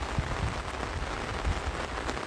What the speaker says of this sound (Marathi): पाऊससुद्धा आला आहे मोठ्या मोठ्याने बघा